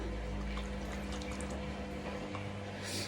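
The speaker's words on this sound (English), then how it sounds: "Just give it a rinse." Water runs and splashes steadily while a makeup brush is rinsed, a continuous close gurgling wash with faint dripping throughout, no voices.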